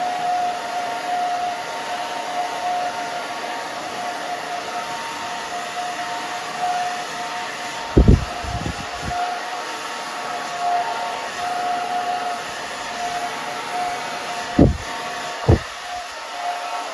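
A handheld hair dryer runs on its low setting while drying short, wispy styled hair, giving a steady, even whir throughout with a few brief bumps and knocks near the end.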